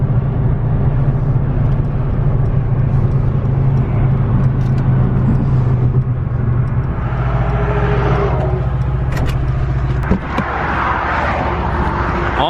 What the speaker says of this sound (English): it's hard to tell with all the noise of traffic around me here